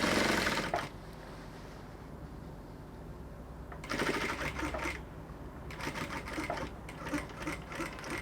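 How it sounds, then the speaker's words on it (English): Sewing machine stitching around the back neckline of a standing-collar bubu dress with a half-inch seam, running in two steady bursts near and clear, with quieter gaps between. "So I'm going to sew all around till the front."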